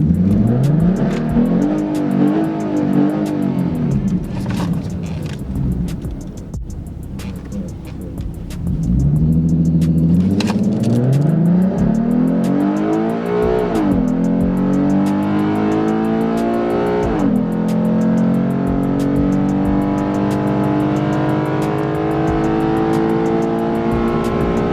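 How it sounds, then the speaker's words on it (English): A Ford Raptor pickup with a twin-turbo EcoBoost engine and 10-speed automatic launches hard off the line at a race track, its loud engine climbing through repeated rising upshift sweeps for over twenty seconds, close and continuous. "For such a big damn truck, that thing took off pretty fast off the line"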